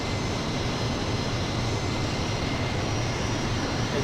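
C-17 transport aircraft engines in Microsoft Flight Simulator give a steady, loud, broadband roar that holds unchanged throughout, with no voices.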